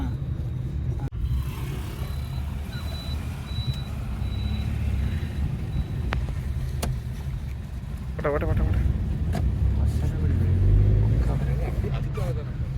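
Cars and other vehicles passing on a forest road near Masinagudi and Mudumalai, a continuous low rumble that swells toward the end, with a brief beep and people talking over it.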